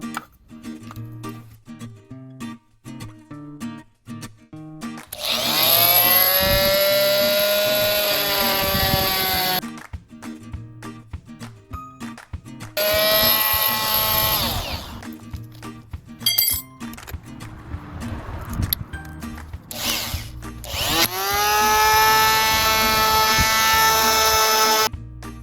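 Power tool cutting and drilling a replacement part for a camper van's broken TV antenna, in three long loud whining bursts separated by quieter gaps with small clinks and handling noise.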